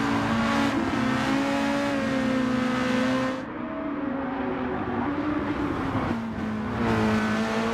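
Race car engine in a racing video game at Suzuka, a loud continuous droning whine that shifts pitch as the car accelerates and the engine revs, with a brief dip midway.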